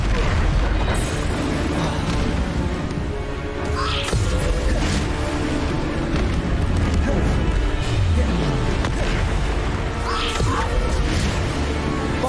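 Repeated Bombarda spell blasts in the video game Hogwarts Legacy land as loud booms and crashes one after another over a steady, busy battle din, with game voices audible in the mix.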